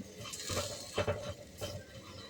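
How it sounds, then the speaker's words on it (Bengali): Salted bitter gourd, dusted with ground coriander and cumin, stirred in a pan with a few soft scrapes and light clinks of a utensil over a faint background sizzle, fairly quiet and close. "এবার এটাকে একটু ভালো করে নাড়তে হবে।"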